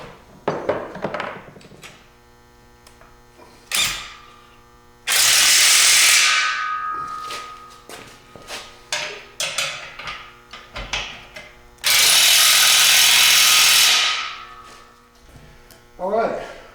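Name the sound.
wrench with impact socket on rotisserie bolts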